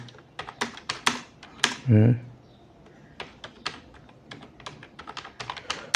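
Rapid keyboard typing as a name and description are entered for a graphics designer profile, with irregular bursts of clicking keys and a short louder thump partway through, no voice.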